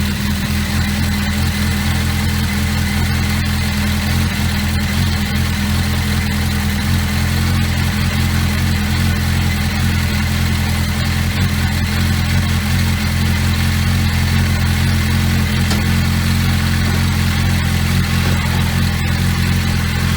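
A Suzuki Bandit motorcycle engine idles steadily just after an oil service, a continuous low rumble holding an even pitch from start to finish with no voices over it.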